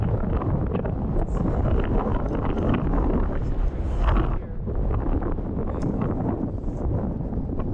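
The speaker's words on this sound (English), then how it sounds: "Alright, we are at the ridge. It's windy" Strong, steady wind on a mountain ridge roaring and buffeting the microphone throughout, loud and continuous with no voices.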